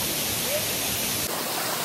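A waterfall in Ghana pours as a dense, constant broadband rush of falling water, steady and loud with no breaks.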